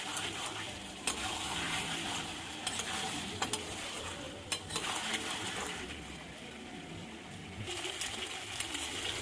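Chicken pieces being stir-fried in oil for a spicy Bengali chicken kosha, a steady crackling sizzle with scattered sharp scraping clicks from the spatula, close and continuous with no talking.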